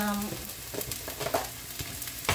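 Ground pork sizzles in a hot pan for Filipino palabok, a close, crackling fry with a few stirring scrapes and a louder clatter near the end.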